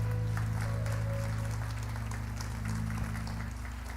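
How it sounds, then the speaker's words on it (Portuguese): A church congregation claps during worship, a sustained wash of applause layered over steady low organ or keyboard drones and a hum, continuing evenly at moderate volume before easing slightly at the end. "Vamos aplaudir ao Senhor."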